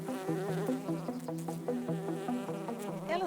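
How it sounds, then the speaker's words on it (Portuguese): Native Brazilian stingless bees buzz close by in a steady, layered drone, with wingbeats rising and falling slightly as they fly. "São abelhas sem ferrão."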